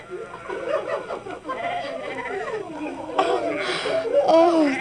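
Sheep bleating at a desert well in a 1968 Bible audio drama about Moses, several wavering bleats overlapping in a flock-like chorus, close and fairly loud, with a voice talking among them.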